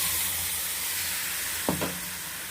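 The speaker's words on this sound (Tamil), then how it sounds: "தேவையான கொஞ்சம் எண்ணெய் ஊற்றி கடுகு போட்டிருக்கேன்" Mustard seeds sizzle in a little hot oil in a pan for tomato chutney, a faint, even hiss broken once by a short knock of a utensil.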